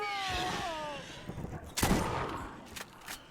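Shotgun blasts ring out in the Borderlands video game, with a few sharp, fairly loud reports spread across a short firefight and a voice heard briefly near the start.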